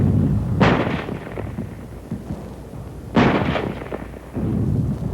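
A German 75 field gun fires twice, two sharp, heavy blasts a few seconds apart, each trailing off into a rumbling echo.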